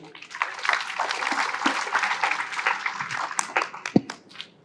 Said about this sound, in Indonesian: tepuk tangan buat Mas Ali